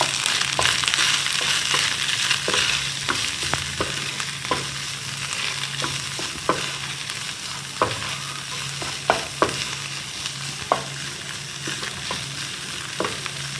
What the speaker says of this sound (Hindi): कीमे को अच्छी तरह फ्राई करना है।